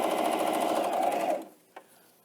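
A Janome Coverpro 2000CPX coverstitch machine, threaded for a two-thread-wide hem, runs in a fast, even burst of stitching for about a second and a half, then stops with a single small click.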